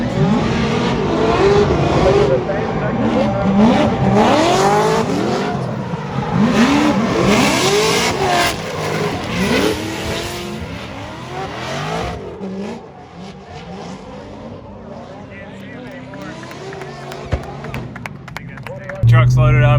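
Two race cars battle closely on a track, engines revving up and down in sweeping pitch changes with tire squeal, loud at first and then fading away, while a commentator talks over the action.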